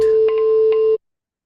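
A tuning fork with a natural frequency of about 260 hertz rings a steady pure tone, loud and close, with faint tapping noises beneath, then cuts off sharply after about a second.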